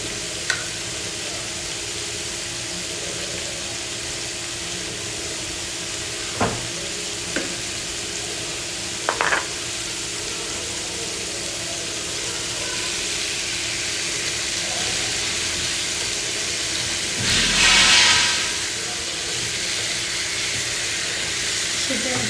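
Chicken sautéing in a pan with salt, a soft continuous sizzle and hiss with a few brief clinks and a louder burst of steam near the end, mostly steady and close.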